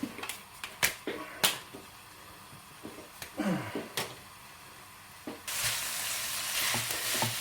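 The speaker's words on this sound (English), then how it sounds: "So you've got to brown the beef" Minced beef browning in a hot pan while a new spatula scrapes and stirs it, sharp clacks and scraping strokes over a quiet sizzle that turns into a loud, steady frying hiss near the end.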